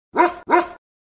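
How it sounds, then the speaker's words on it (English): Two short, loud dog barks in quick succession, close and clear, followed by silence. "Dog"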